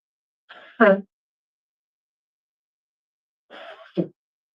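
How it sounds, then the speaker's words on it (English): A single human sneeze during a radio broadcast, preceded by a short breathy intake, then a second quieter sneeze-like burst after a pause of a few seconds. "I gotta sneeze."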